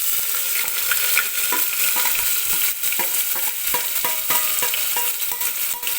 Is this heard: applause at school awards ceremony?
no